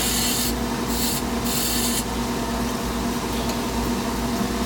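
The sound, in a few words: turning a purple heart wood tenon on a lathe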